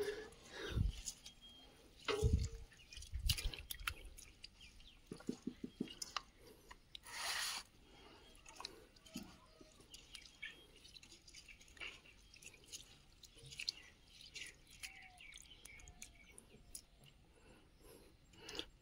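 Rice being washed by hand in water at home, quiet splashes, drips and squishing grains in irregular bursts, with a few louder sloshes and faint talk in between.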